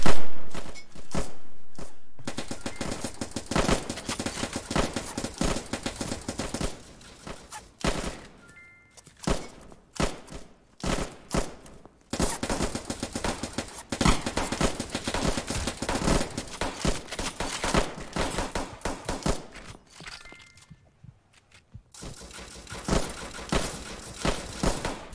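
Rapid gunfire from the Roblox game Trenches WW1, with dense bursts of shots, some brief pauses and faint footsteps, loud throughout and with no talk.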